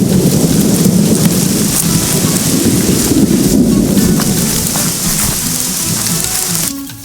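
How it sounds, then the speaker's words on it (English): Steady heavy rain pours down during a hike at Barr Hammock Preserve in Micanopy, Florida, with low rumbling thunder rolling beneath the constant hiss, loud and close throughout before easing slightly at the very end. "it's starting to rain now"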